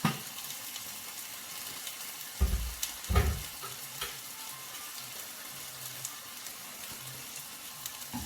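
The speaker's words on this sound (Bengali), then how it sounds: "এই যে ভাজা হচ্ছে এটা" Pieces of pointed gourd fry in a pan with a low, continuous sizzle, with a few dull knocks and stirring scrapes near the middle, and no one speaking.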